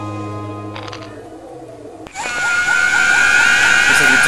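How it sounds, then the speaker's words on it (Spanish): A demonic scream in the video game The Legend of Zelda: Majora's Mask bursts out loud and harsh after a quieter stretch of game music, holding for a couple of seconds. "Ese grito está bastante demoníaco"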